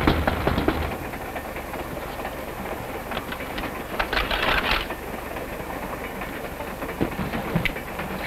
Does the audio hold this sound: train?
yes